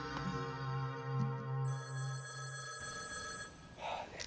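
A telephone rings with a sustained bell-like tone, fairly close, layered over a background of steady tonal hum before fading into noise.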